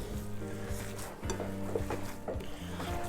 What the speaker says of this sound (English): And then the ground beef, and just use your hands. Use your hands to mix it.